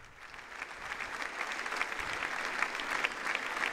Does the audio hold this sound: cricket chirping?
no